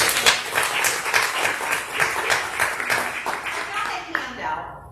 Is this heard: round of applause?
yes